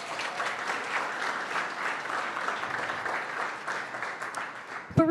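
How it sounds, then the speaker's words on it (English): A seated audience at a startup demo day applauds steadily for a presenter, the dense clapping holding at an even level for several seconds before a voice cuts in at the very end. "you can give her a round of applause"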